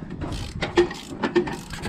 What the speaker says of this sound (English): you can do the final bit of tightening up the U-bolts.